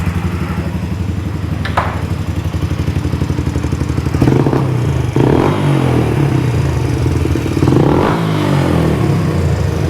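A Yamaha Raptor 125 ATV engine with a high idle and a tendency to bog down runs close by, loud and steady, then revs up in several throttle blips with rising pitch.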